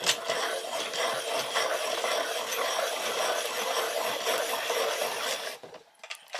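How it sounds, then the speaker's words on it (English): Noisy pencil sharpener grinding a colouring pencil, a steady buzzing whir held for about five seconds close to the microphone, then stopping abruptly. "I need to sharpen this, so I'm going to have to use my noisy sharpener"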